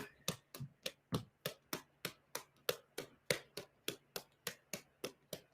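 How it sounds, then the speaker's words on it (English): One person claps their hands in a steady, even rhythm, about three sharp claps a second for several seconds. The claps are fairly soft against a quiet room, with no talking. "Imagine you're clapping for your day"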